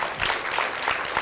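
Middle school students applaud in a brief, dense burst of clapping at a school reading event, loud and steady throughout.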